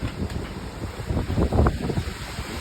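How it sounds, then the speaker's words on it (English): Strong gusty wind blows just before a severe thunderstorm, buffeting the microphone with rumbling, uneven roars that swell and ease over a couple of seconds. "Oh, sorry about the wind."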